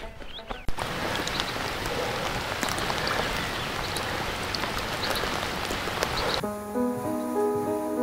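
Rain falling in Cheviot woodland, a dense, steady patter of drops on leaves and surfaces, close and continuous, with a brief knock near the start and a tonal hum at the very end.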